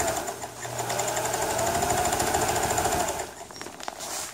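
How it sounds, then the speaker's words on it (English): Sewing machine running steadily as it stitches the zipper seam into a tent fly, a continuous close, fairly loud mechanical whir with rapid needle rhythm, easing off briefly near the end. "I'm just sewing this other seam, the outer seam"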